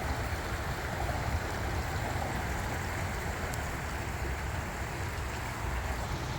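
An RC WW2 fighter submarine runs in a backyard pool, heard as a continuous rushing, churning wash of water that holds steady and fairly loud throughout.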